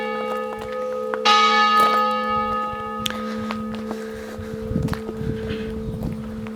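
Church bells ring out in the village of Bar-sur-Loup, sustained tolling strokes with long humming decay layered over one another, heard outdoors at moderate distance with faint footsteps and light wind.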